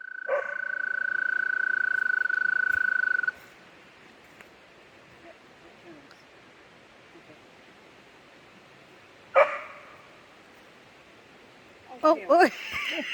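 At night beside a stream in Georgia, frogs call with a steady, loud trill that lasts a few seconds. Then a soft, constant background of water and night noise follows, broken by a few brief, sharper sounds near the end.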